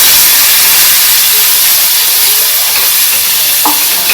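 Ground spice paste frying in oil in a pan, with a splash of water just added for an egg and red lentil gravy, gives a loud, steady, close hiss and sizzle throughout, with a brief clink near the end and no talking.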